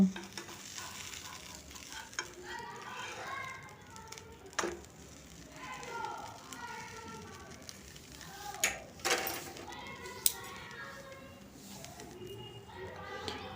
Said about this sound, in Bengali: একটু চাপ দিয়ে দুটো পিঠ ভালো করে বাটার দিয়ে সেঁকে নেব